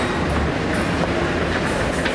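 A German metro subway train heard from on board or close by: continuous loud low rumble and rolling wheel noise with faint rhythmic clatter throughout, no speech.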